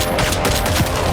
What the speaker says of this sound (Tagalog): diretsong pinaputok ni Tanggol ang kanyang baril sa direksyon kay Rigor.